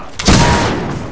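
A gunshot in the Western shooter Fistful of Frags: a sharp, loud crack a fraction of a second in, with a short booming tail that decays over the following second.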